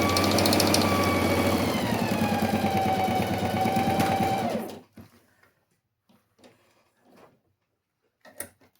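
A sewing machine runs a steady topstitch seam on a fabric pencil case, a fast rhythmic whirring hum for several seconds that stops, followed by a few scattered soft mechanical clicks and handling sounds.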